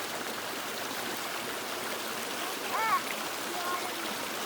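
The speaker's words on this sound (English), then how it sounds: "That's the way the creek wants to go." Creek water flows in a steady, soft rushing wash outdoors, continuous and moderately faint, with a brief higher chirp-like sound partway through.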